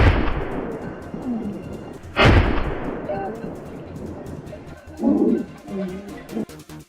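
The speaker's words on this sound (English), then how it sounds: "After the thunderous gunshots, the wild boar herd seemed startled and began to rush off in a panic." Gunfire rings out during a large-scale wild boar hunt in New South Wales forest, with a sharp, loud shot followed by a later burst, over outdoor ambience with faint birds.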